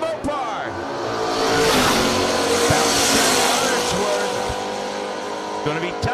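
A Mopar drag racing car launches down the strip at the Yellow Bullet Nationals final rounds, its engine roaring loud and rising, then fading as it pulls away, under an announcer's commentary.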